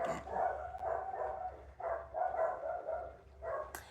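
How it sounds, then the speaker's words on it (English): Small dogs bark repeatedly at the neighbours' bigger dogs, bursts of yapping coming in clusters with short pauses, fairly close and moderately loud. "The dogs are gonna bark."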